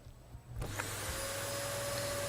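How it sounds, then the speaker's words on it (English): A steady vacuum cleaner drone switches on after a brief quiet moment and runs loud and continuous, with a whining tone, played over the air on a country radio show. "that vacuum cleaner salute for the vacuum man"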